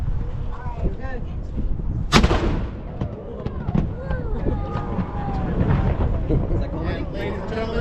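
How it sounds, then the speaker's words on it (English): A single loud cannon blast at Castillo de San Marcos fort in St. Augustine, Florida, booms out about a third of the way in and rumbles away, with a crowd talking before and after. "It is time to fire the cannon, ladies and gentlemen"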